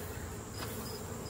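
Honey bees crawl and hum on a hive frame at an apiary yard, a faint, even buzzing drone up close with no voices.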